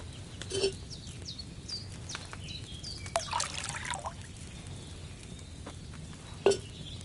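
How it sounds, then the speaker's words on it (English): Liquid poured into a cauldron in Kingdom Come: Deliverance 2, faint trickling and splashing in short bursts with small drips, fairly close and otherwise quiet. "First, you have to pour the right base into the cauldron."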